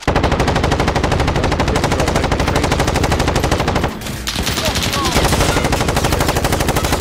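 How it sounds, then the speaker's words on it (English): Rapid machine gun fire roars in Call of Duty: Modern Warfare, loud continuous bursts with a brief pause near the middle before the firing resumes and carries on to the end. "sniping with this machine gun up here"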